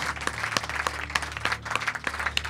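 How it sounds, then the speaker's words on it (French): Event audience applauds startup founders called onto a stage, a continuous patter of many hands clapping at moderate volume, with a faint low hum underneath. "Je vous propose de les applaudir."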